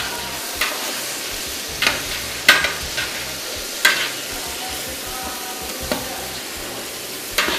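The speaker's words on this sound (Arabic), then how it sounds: "ويتم التقليب المكونات كامله لمده 3 دقائق" A tomato and green pepper mixture sizzles gently in a pan while being stirred, with soft scraping strokes landing every second or so over a constant low frying hiss.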